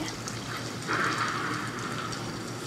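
In Minecraft, water is poured out of a bucket, giving a short, soft watery splash and trickle over steady background hiss.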